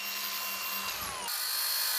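An electric saw cuts through steel wire rope during a road heating-cable installation, a loud continuous grinding whine with rising and falling pitch and a shift in tone partway through, close and without voices.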